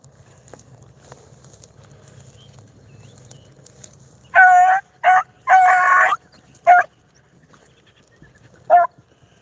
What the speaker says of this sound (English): That's Rose barking there.